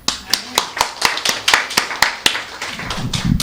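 A church congregation claps in a steady run of about a dozen sharp, evenly spaced claps, close and fairly loud, with a low murmur of voices swelling near the end.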